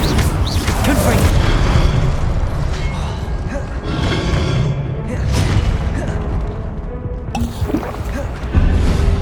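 Confringo explosive spell cast in a Harry Potter game on PS5, loud booming blasts with crackling debris and rumbling effects layered over dense game sound, in repeated bursts with short quieter gaps.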